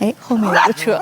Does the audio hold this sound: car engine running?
no